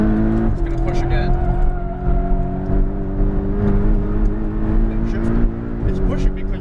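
A Porsche Cayman GTS engine pulls steadily on a racetrack, a loud sustained drone with layered harmonics holding its pitch, heard from inside the car with a driving instructor's voice over it.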